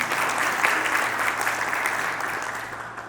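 Dense audience applause at a sold-out business chamber of commerce gala, steady and fairly loud throughout, easing off slightly toward the end.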